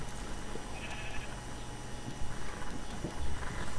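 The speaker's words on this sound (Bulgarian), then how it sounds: "Охо, колко много овца има." Sheep bleating in Minecraft, several short in-game bleats scattered over a steady noisy background, moderately loud and without talk.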